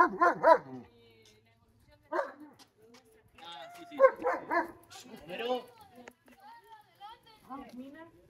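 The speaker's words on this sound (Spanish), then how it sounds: "Los perritos se portaron súper bien." Several dogs bark in short loud bursts, near and in clusters, with whimpers and yips in between; people talk softly under and between the barks.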